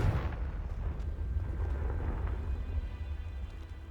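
A Confringo fire spell blast from Hogwarts Legacy erupts at the start with a deep rumbling boom, then a low steady roar lingers beneath faint crackles as the blast fades.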